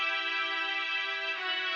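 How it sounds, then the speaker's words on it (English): A Purity Arco low strings preset plays a sustained melody as part of an FL Studio beat, holding steady bowed tones throughout with a slight shift near the end, no voices present. "So here's Purity, the Arco low strings,"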